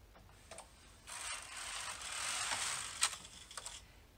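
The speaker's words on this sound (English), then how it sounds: "make sure your carriages are on their smallest stitch size, and knit across for your zigzag row" A Superba double bed knitting machine carriage is pushed across a row on its smallest stitch size, giving a faint, steady mechanical swish and clatter that swells and fades over a few seconds, with a sharp click near the end.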